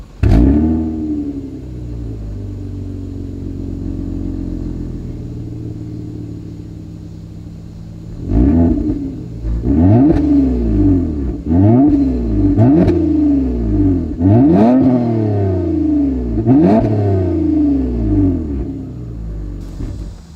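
A 2020 Toyota Avalon TRD with a dual exhaust settles into a deep idle, then a series of sharp, close revs rises and falls in a quick repeated rhythm.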